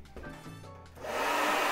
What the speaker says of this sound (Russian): Прям сразу слышно, что фен очень мощный.